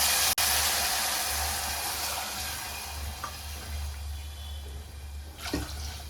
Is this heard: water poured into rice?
yes